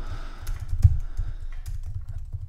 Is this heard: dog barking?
no